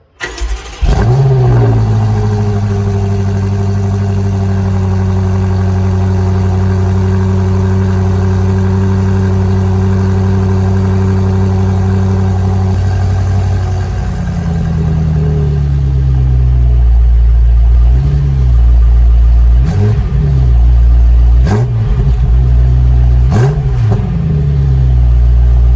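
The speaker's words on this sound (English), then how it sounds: "Here's an X6M cold start." A 2021 BMW X6M Competition fires up from cold with a loud, close engine flare, settles into a steady high idle for about thirteen seconds, then drops lower and rumbles, with a few sharp revs and exhaust blips near the end.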